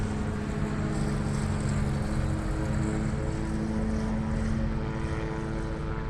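A propeller airplane near an airfield drones with a steady, even engine tone as the pilot throttles back, holding a constant level with no voices.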